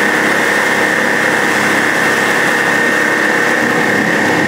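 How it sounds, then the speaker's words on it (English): An old 85 horsepower Force outboard motor drives a boat on the Delaware River, running in a steady, continuous near drone with no break and no voices. "The old 85 horsepower Force. Hanging in there."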